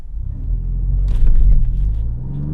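Alfa Romeo Giulia Quadrifoglio launching hard from a brake-boosted start, a deep loud engine rumble swelling as it accelerates, with a brief burst of higher tire or exhaust noise mid-pull and no speech.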